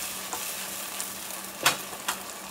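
Garlic fries in a pan under a constant soft sizzle, broken by a few sharp scraping stirs that rise clearly above the hiss, close and alone.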